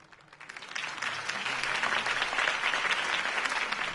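A large crowd bursts into sustained applause and cheering after a campaign speech for Harvey Dent, rising from a quieter start into a dense, steady roar of many hands clapping.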